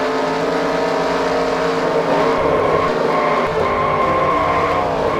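A race car spins out during a qualifying race at Orlando, its engine droning loudly and continuously, pitch wavering and shifting as the car slides, with a rough scrubbing tone throughout.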